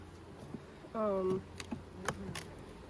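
Agitated honey bees buzz during a mid-August hive inspection with a steady low drone throughout, joined by a brief voice and a few light handling clicks.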